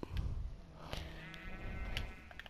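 Sheep bleating in the game Minecraft, a few short wavering bleats over a steady background hum, fairly close and clear with no talking.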